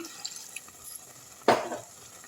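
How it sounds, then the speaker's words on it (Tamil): Silence is followed by a single short burst of water being poured and sloshing inside a blender jar as it is rinsed, which then fades quickly. "இந்த ஜாரை வந்து அலசி தண்ணி ஊற்றிடலாம்"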